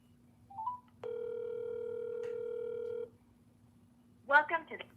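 A telephone call being dialed: a short dial-type beep, then a steady two-second ringback tone, followed by a voice speaking near the end.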